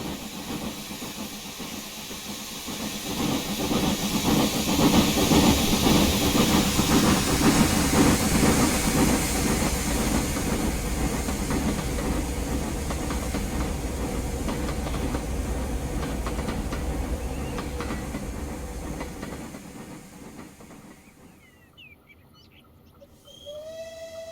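King Class steam locomotive number 6007 climbs a bank toward a tunnel, a loud steady chuffing and hissing that builds, holds for a long stretch, then fades away, followed by a short whistle-like tone at the end.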